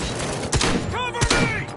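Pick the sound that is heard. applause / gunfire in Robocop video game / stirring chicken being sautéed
gunfire in Robocop video game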